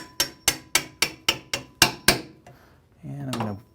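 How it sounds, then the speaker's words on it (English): A hammer strikes the metal hinge pin of a Henny Penny pressure fryer lid spring eight times in a steady rhythm, crisp, close taps, followed by a brief scrape and a short murmur. "And use our hammer to tap it back through"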